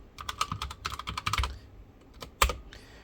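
Close, crisp keystrokes on a computer keyboard in quick clustered runs with short pauses, ending with a couple of louder taps, as a command is entered on a PC while setting up a drone flight controller.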